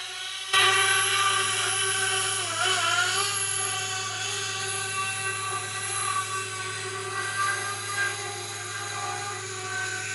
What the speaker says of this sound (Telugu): మన డ్రోన్ అలా పోయింది